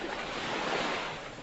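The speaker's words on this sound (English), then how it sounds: "The New Brunswick Tidal Bore." New Brunswick tidal bore water rushing in, a short, steady surf-like wash that swells slightly and then eases, with no voices.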